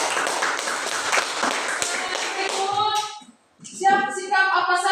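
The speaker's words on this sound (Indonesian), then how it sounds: "tepuk tangan untuk Saji" Classmates applaud a student named Saji with a dense burst of clapping in a classroom. It stops briefly, and then a voice speaks over a few more claps.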